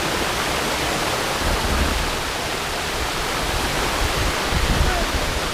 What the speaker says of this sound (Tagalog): Ito pala yung falls dito sa baba.